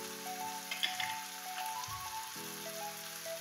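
Chicken coated in coriander, chili, turmeric and garam masala powders sautéing in a pan for pepper chicken, giving a steady close sizzle and crackle with faint scraping throughout, no voices.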